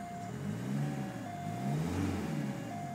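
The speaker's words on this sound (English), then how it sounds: "I'll rev it a few times." Revving VW Passat diesel engine, heard close up as two or three smooth rises and falls in pitch over a continuous running engine.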